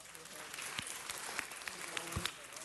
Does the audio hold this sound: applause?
yes